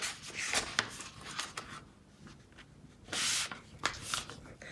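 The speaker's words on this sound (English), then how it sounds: "You're going to crease it, and you're going to unfold it, and fold it in half in the other direction" Paper is creased and folded by hand, giving short papery rubbing and swishing strokes in uneven bursts, close and fairly quiet, with one longer sliding crease near the end.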